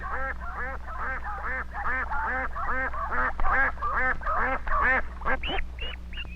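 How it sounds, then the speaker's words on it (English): Farm ducks quack loudly and repeatedly in close, rapid bursts, several birds overlapping in a busy chattering stream over a steady low hum, with no talking. "Farmer Brown does not only keep chickens on his farm, but he also raises ducks."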